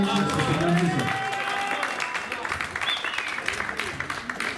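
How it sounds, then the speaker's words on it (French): An audience applauds steadily at a live music event, a dense, moderately loud patter of many hands. A voice speaks over the clapping at the start before it settles into continuous applause. "Applaudissez-la encore, s'il vous plaît."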